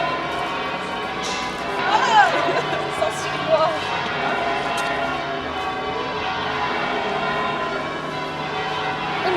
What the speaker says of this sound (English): Wow, those bells are going for it.